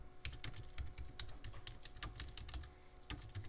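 Text being typed on a computer keyboard, a quick, irregular patter of soft key clicks with small pauses between bursts, heard close and fairly quiet with no voices.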